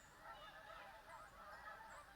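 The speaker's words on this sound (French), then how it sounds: "Entendez-vous les oies sauvages qui s'en vont?" Wild geese honk steadily as they pass overhead in a V formation over Quebec at summer's end, a continuous overlapping chorus of calls at moderate distance with no talking.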